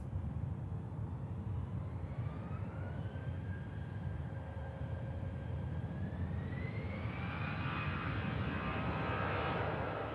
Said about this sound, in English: EasyJet's beginning her roll out to Paris Charles de Gaulle Airport.